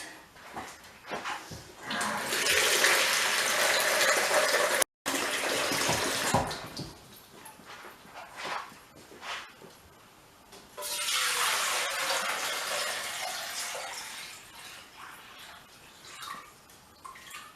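Water pouring into a eucalyptus oil distilling pot to cover the pipe inside, a loud rushing fill that runs for several seconds, pauses briefly, then resumes in a second strong burst.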